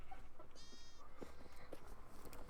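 A Minecraft sheep on a survival island gives a short, faint bleat amid quiet game ambience and soft clicks.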